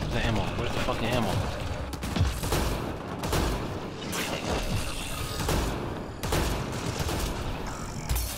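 Dense, rapid gunfire and mechanical clatter from a Mass Effect Andromeda multiplayer match fill the whole stretch, with repeated volleys and sharp impacts layered over one another as a player talks.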